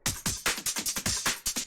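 A punchy, fast drum and bass breakbeat plays alone, with crisp snares and kicks hitting in a tight, rapid rhythm.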